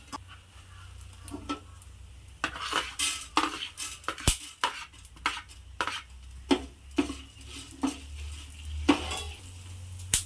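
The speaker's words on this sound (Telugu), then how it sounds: "అవి బాగా వేయించుకోవాలి ఫ్రెండ్స్." Coriander seeds dry roasting in a pan for a gongura chutney, with repeated scraping stirs and light rattling of seeds against metal over a low steady hiss, fairly close and rhythmic.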